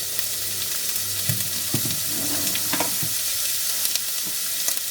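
Chopped yellow onion and garlic sauté in olive oil in a pan, a close, even sizzle broken by several clattering stirs and scrapes of a utensil against the pan, with no talking.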